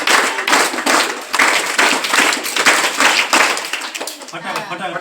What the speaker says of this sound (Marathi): आपण सर्वजण मॅडमसाठी एकदा आनंदायी तीन टाळ्या वाजू आपण वन टू थ्री